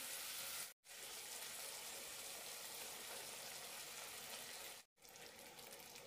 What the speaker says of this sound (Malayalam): അരപ്പൊഴിക്കാം.